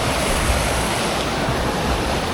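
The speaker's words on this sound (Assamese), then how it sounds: "নদী কেনেকৈ ধুনীয়াকৈ গৈ আছে এটা" A river at Nizam Ghat in Arunachal's Dibang Valley rushes past in a steady, broad roar of flowing water, close and continuous with wind noise mixed in and no talking.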